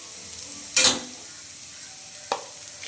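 A spoon stirs turmeric and cumin powder into an egg curry, a short scraping clatter against the pan early on and a fainter tap later, over a quiet background.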